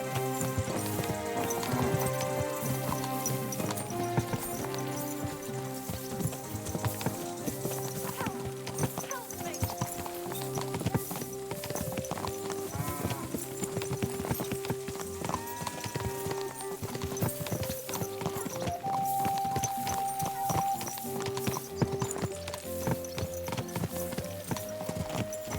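Horse hooves clip-clop steadily through Kingdom Come: Deliverance II, a medieval role-playing video game, under continuous game music and spoken dialogue.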